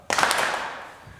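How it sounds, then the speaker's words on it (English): A group claps together once, a single sharp burst of many hands with a short echoing decay, heard in a live gathering without talk. "You guys do double clap."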